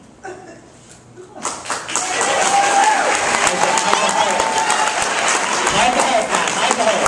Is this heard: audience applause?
yes